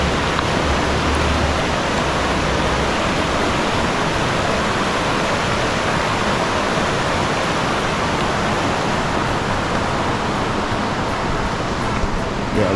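River water rushes steadily through an Oregon rainforest in Willamette National Forest, a dense, continuous broadband roar of flowing current that stays even and close throughout with no break.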